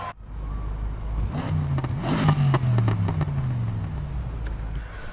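A BMW M3 GTR engine in the racing game Need for Speed Heat revs and accelerates, its tone rising and falling through gear changes with crackles, loud and close.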